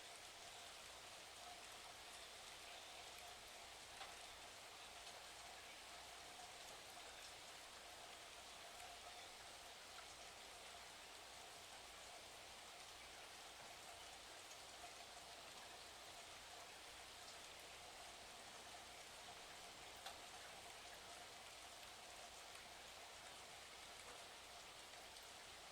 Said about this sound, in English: Continue to notice the sounds of the rain